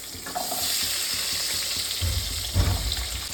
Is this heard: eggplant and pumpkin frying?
yes